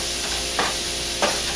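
Grated ginger and garlic drop into a hot pan with minced hatch chili, giving a steady low sizzle with two brief bursts of stirring or spattering.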